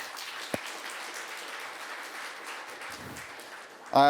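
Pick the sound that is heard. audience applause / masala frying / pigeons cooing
audience applause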